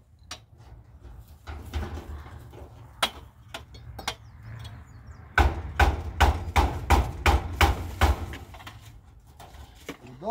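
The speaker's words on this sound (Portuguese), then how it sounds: "A mãe tá segurando o martelo pra ele. Ele ainda quer bater." A hammer knocks on a door being fixed, first as scattered single blows, then as a fast, loud burst of repeated strikes, with a low hum beneath and sparse knocks after.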